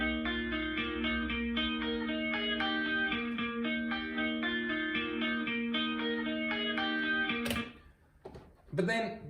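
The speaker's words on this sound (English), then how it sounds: "A clean guitar sound from the 50s would sound a little bit something like this." A clean 1950s-style electric guitar plays a steady chordal pattern with bright, undistorted tone, loud and close, ending with a few scraping noises.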